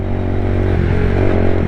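A Lexmoto Tempest motorcycle engine drones steadily at around 6,000 revs, a dense buzzing hum with a rough, vibrating edge from an excessive vibration fault, close and constant.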